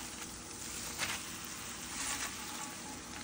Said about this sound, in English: I'm sauteing the mushrooms with a little bit of Italian seasoning and salt pepper